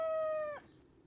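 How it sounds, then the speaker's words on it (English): A rooster crows once right beside the camera, a loud, close harmonic call held steady before dropping off abruptly at the end. "He's right beside the camera crowing."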